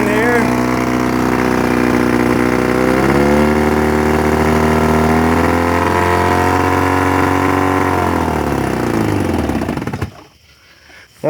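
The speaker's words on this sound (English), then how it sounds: "Alright, I got the old Evinrude fixed and running here." An old Evinrude outboard boat engine runs steadily and close, a droning motor tone that rises and settles in pitch before shutting off near the end.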